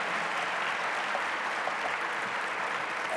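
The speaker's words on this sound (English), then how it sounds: "Please join me in a round of applause to recognize Neil Peterson." Audience applause at a transportation conference annual meeting: a soft, steady patter of many hands clapping from a distance, unbroken throughout.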